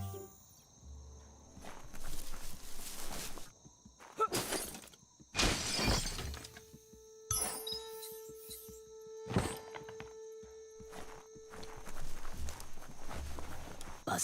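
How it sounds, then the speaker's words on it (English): A box gets smashed apart in the video game Biomutant: several sharp crashing, shattering bursts spaced across the stretch, mixed with footstep sounds and a faint steady insect-like background hum. "You shouldn't worry about smashing up the box."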